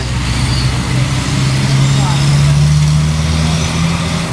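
A truck and a jeepney pass on a busy road in Pagbilao, Quezon, with a steady loud engine rumble and road noise under continuous talking.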